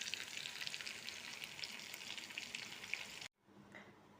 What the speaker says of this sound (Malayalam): മീൻ കഷ്ണങ്ങൾ കിടന്ന് ഇങ്ങനെ മുരിഞ്ഞുകൊണ്ടിരിക്കുകയാണ് കേട്ടോ